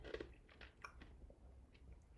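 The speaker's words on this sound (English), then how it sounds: "Sorry about the ice chewing." Someone chews ice close to the microphone, a few faint crunching bites spread over a quiet background.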